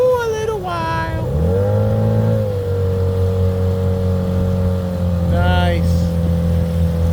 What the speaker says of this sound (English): I'm gonna turn off the engine